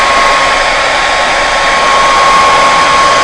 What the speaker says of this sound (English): you can take a hairdryer and just warm the vinyl up